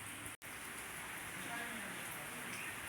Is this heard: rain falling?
yes